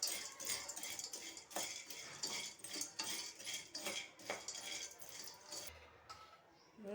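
Pasta being roasted in a pan for pasta kheer is stirred with a utensil, giving soft, repeated scrapes and light clinks against the metal in an irregular rhythm, fairly quiet and close.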